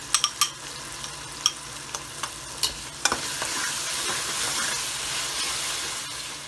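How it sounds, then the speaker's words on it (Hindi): Ginger garlic paste fries with softened tomatoes in a pan for deghi chicken biryani: a quick run of sharp spoon scrapes and taps against the pan, then a steady close hissing sizzle. "थोड़ा सा भूनेंगे।"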